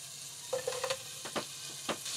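Shrimp dropped into a pan of butter and lemon juice aboard a boat sizzle softly, with a few light stirring clinks and scrapes over a steady frying hiss, close and quiet.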